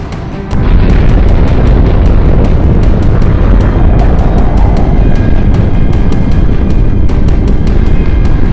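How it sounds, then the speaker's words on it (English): Atomic bomb dropped by a B-29 bomber exploding over Hiroshima in 1945, rendered as a sudden deep boom that swells into a loud, sustained roaring rumble. "an American B-29 bomber dropped the world's first deployed atomic bomb over the Japanese city of Hiroshima"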